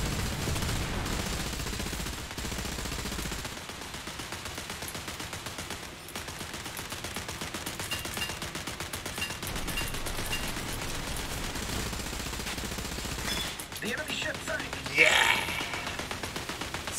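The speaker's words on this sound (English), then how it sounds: "I'm firing machine guns at him" Machine guns fire from a small boat in the naval combat game War Thunder, a sustained, gritty rattle with broadband noise that runs the whole stretch, while a person talks over it.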